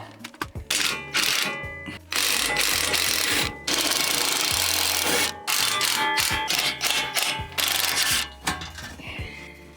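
A ratcheting wrench works the skid plate bolts loose on a 2019 Toyota Tacoma, loud and close, with rapid clicking bursts broken by short pauses.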